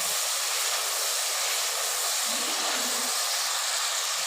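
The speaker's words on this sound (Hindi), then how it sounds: "अब हम इसमें अपना चिकन डाल देंगे" Chicken pieces for a karahi go into a hot pan, giving a steady, loud, broadband sizzle and hiss that fills the whole moment with no voices.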